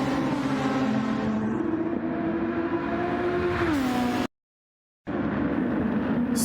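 Formula racing cars in the Project SF1 video game whine past at high revs, a loud continuous engine drone with shifting pitch, cut by a short silent gap before the engine noise resumes.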